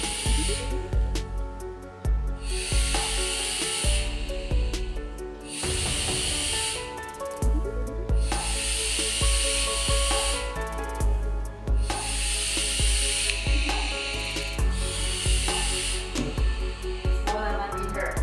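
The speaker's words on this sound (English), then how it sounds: "Let me show you, I vape in 200 watts." Snowwolf Mfeng kit with its wolf tank vaped at 200 watts, giving repeated long breathy hisses of inhaled vapor, about six puffs separated by short pauses, close and fairly loud.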